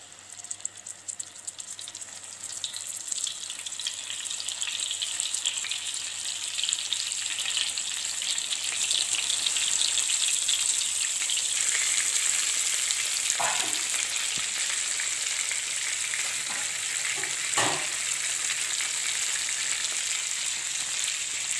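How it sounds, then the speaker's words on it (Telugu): Stuffed brinjals frying in hot oil in a pan, a loud continuous sizzle close by, with a couple of brief knocks or stirs partway through, no talk. "ఆయిల్ హీట్ అయిన తర్వాత వంకాయలు 1 by 1 వేసుకోవాలి"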